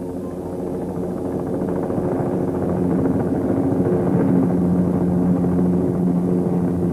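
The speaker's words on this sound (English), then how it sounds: "landed on the rock by a helicopter for the opening of the memorial" A helicopter drones steadily close by as it lands on a rock, its engine and rotor hum holding constant and growing slightly louder, with no talking.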